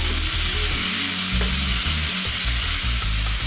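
Tomato and bottle gourd fry loudly in a pan with a steady close sizzle, joined by intermittent scraping stir strokes and low clunks throughout.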